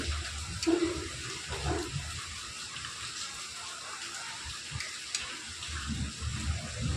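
Egg curry made with three eggs cooking in a pan in a home kitchen gives off a soft, continuous sizzle and bubbling, with occasional small pops and stirring noises, fairly quiet throughout.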